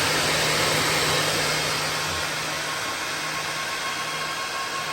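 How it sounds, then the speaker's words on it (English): Steady rushing airflow of about 220 CFM moving through an UltraCool oil cooler heat exchanger on an Indian Roadmaster motorcycle, a constant loud whooshing hiss with a faint motor hum underneath and no speech. "what you're hearing is 220 CFM of airflow moving through that heat exchanger"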